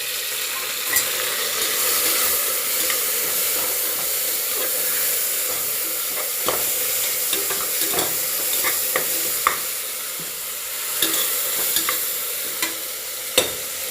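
Tomatoes frying with onions and masala in an oiled pan, a continuous loud sizzle and hiss broken by occasional sharp spatters and stirring clicks, heard close without speech.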